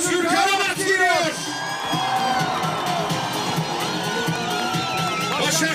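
A crowd at a political rally in Başakşehir cheers loudly, with whoops and shouts rising over a steady roar of voices throughout.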